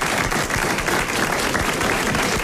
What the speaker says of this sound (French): vous applaudissez Mademoiselle Lecoeur de Sauvigny-le-Bois.